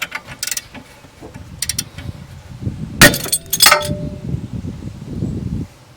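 A Subaru suspension part held under heavy tension lets go with a sudden sharp metallic crack, followed by a brief clinking ring, standing out from quieter workshop handling noises around it.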